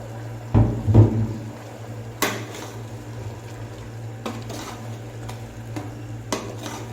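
Mutton keema with potatoes and peas cooks in a pan, a faint simmering sizzle under a few sharp scrapes and knocks of a spoon stirring against the metal, with quieter taps scattered through.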